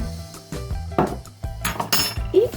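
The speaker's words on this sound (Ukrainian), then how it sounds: "вимішую, щоб наш фарш був дуже е, кращий і еластичніший" Minced chicken breast and pork being mixed with breadcrumbs, salt, pepper and spices in a bowl, heard as close, irregular utensil clinks and knocks against the dish, with no talking.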